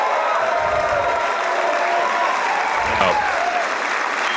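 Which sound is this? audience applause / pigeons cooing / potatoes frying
audience applause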